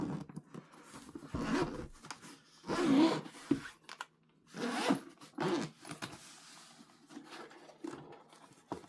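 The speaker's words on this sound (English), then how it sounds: "Looks like you get a nice quality zipper" A zipper on a carry case being pulled in several short bursts, close by, with pauses and light handling rustles between the strokes.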